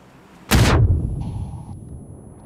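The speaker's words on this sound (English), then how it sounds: "I threw a frag inside, heads up." Frag grenade detonating inside a building in the battle-royale game PUBG, a single sharp, loud blast that trails off into a rumbling decay over about two seconds, heard alone.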